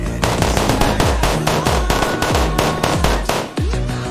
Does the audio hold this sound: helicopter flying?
no